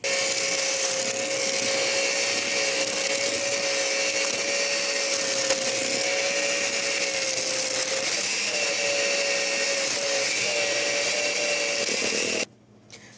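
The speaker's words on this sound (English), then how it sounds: "So I'm going to blend this all together till nice and creamy" Electric mixer creaming butter and sugar in a home kitchen, a steady loud motor whine with a constant pitch running unbroken for about twelve seconds, then cutting off abruptly.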